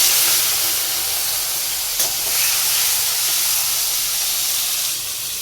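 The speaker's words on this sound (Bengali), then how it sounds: "প্রথমে চিংড়ি মাছগুলো ভেজে নেব" Prawns fry in hot oil with a loud, continuous sizzling hiss that stays steady and close throughout.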